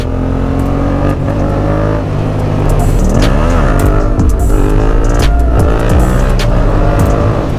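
A Yamaha MT-07 motorcycle engine drones loudly and close up while riding, its pitch rising and falling as the throttle opens and eases, with wind rushing over it.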